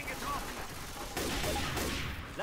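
Bursts of gunfire in the video game Left 4 Dead 2, rapid shots and impacts layered over game sounds, fairly close, with a voice briefly in the mix.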